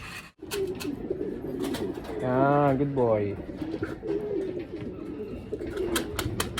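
A racing pigeon gives a soft, rolling coo close by after landing, amid light outdoor rustling and wind; someone speaks briefly at the start.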